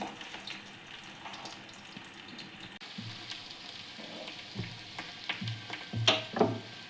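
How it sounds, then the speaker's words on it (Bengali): Food fries in a pan in a Bengali kitchen while cauliflower-stuffed paratha and aloo dum are prepared, giving a soft steady sizzle broken by scraping stirs and a few sharp clinks of a utensil against the pan. "এটা লাল লাল করে ভেজে তুলে নিচ্ছি এটা।"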